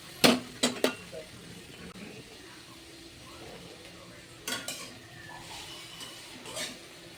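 Small tomatoes are stirred in a cooking pan with a few sharp metallic clinks of the spoon against the pan, then quieter scraping, a soft sizzle, and more clinks later.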